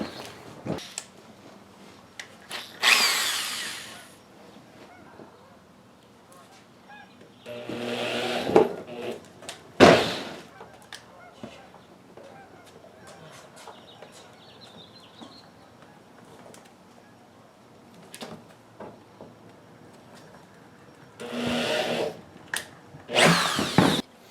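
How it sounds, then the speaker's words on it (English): A power drill whirs in several short bursts separated by quiet pauses, with the motor winding up and down as it bores holes to mount a motorcycle top case. "So let's drill the holes."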